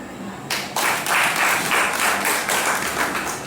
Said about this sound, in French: Vous pouvez applaudir pour lui